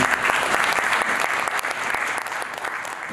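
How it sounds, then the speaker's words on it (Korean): Wedding guests give a dense, sustained round of applause right after the ring exchange, many hands clapping loudly at close range with no talking over it. "여러분 박수 부탁드리겠습니다"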